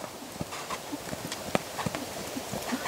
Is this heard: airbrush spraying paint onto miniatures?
no